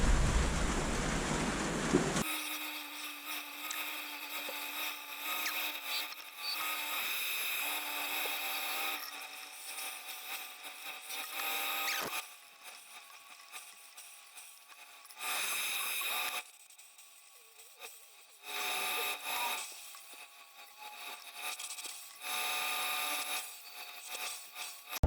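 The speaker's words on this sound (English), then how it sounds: "I'm going to hog the centre out of it now." A polyester resin bowl being hollowed out on a wood lathe, with the tool hogging out the centre: harsh, hissing cutting noise comes in bursts over a steady machine hum, stopping and restarting several times.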